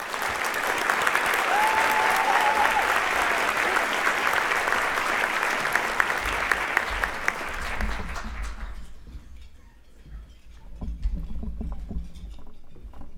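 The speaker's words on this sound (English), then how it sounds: "Can we give them all one round of applause?" Audience applause at a special presentation honoring youth candidates, a dense sustained round of clapping that fades out after about eight seconds, leaving quiet room sound with faint shuffling.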